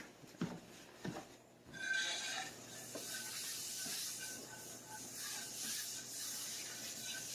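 Butter sizzles and hisses in a hot, oil-brushed cast iron pan as it melts, after a few clanks of it going in, a steady, moderately quiet frying hiss.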